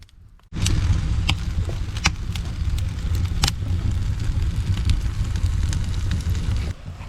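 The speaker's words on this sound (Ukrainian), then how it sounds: "Розпалив камін, а там вже жариться цього курочка." Wood fire crackling in a homemade tandoor with chicken roasting inside, a steady close roar broken by sharp pops and snaps throughout, no voices.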